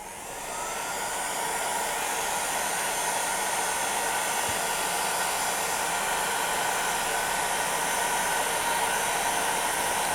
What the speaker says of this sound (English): And then I'm going to go in with my heat gun